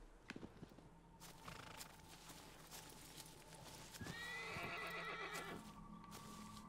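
Horse hooves clip-clop in Shadow of the Colossus, then a loud, close neigh breaks out midway and carries on over a steady ambient game backdrop; someone talks briefly near the start.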